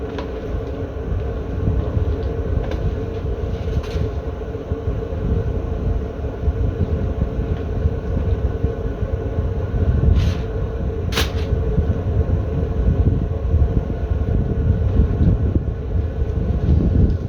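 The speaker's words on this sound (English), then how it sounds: "The wind keeps blowing a little bit." Wind blowing outdoors beside a barbecue where pork belly burnt ends are cooking, a loud, steady low rumble of wind buffeting the microphone throughout with faint clicks now and then.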